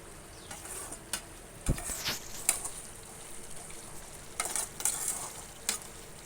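Potato curry cooking down in a pan over a gas flame, a soft continuous sizzle with a few scraping stirs of a spoon against the pan, close and fairly quiet, with no one talking.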